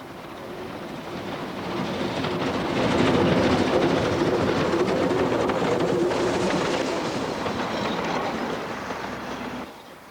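A steam train rumbles past steadily and loudly, with a continuous rolling clatter that swells in the middle and cuts off abruptly at the end.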